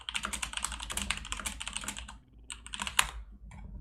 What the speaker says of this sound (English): type Noah food review